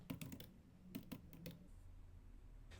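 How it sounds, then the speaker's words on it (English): A file name is typed on a computer keyboard in Terminal, a quick run of close, light key clicks in small bursts that stops after about a second and a half, leaving faint room hum. "we'll type in this file name here"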